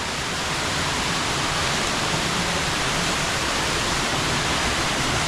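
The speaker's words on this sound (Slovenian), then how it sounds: "Evo, to je zgornji slap tega desnega pritoka." A waterfall pours through a narrow gorge on the right tributary of Belopotoški Skočnik, a dense, steady roar of rushing water filling the space, loud and unbroken with no voices.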